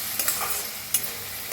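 Turmeric, coriander powder and red chilli masala stirred and roasted in oil in a pan for egg bhurji, a steady close sizzle with soft scraping stir strokes and a few sharper spoon clicks, with no talking.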